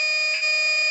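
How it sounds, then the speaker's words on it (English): A virtual reconstruction of a pre-Columbian skull whistle sounding from its outer rim gives a steady, shrill, siren-like tone with a strong pitched core and bright overtones, held evenly for about a second with a brief wobble midway. "The second sound is catched here from the outer rim of the skull whistle."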